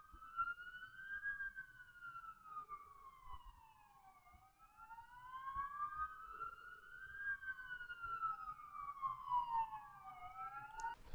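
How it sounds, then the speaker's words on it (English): Sirens from three fire engines pulling up outside, heard from indoors as a faint, steady wailing that rises and falls continuously and overlaps throughout. "fucking 3 fire engines just turned up outside and all firemen getting out with their helmets on and hoses and stuff"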